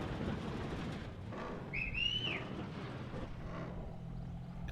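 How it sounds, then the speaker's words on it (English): One short warbling whistle, sliding up then down, over a low steady hum as stegosaurs are herded in Jurassic World Evolution 3; faint-to-moderate and heard once midway, alone. "I'm whistling at them"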